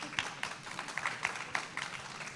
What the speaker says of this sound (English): Can we have a round of applause for Alejandra, everybody?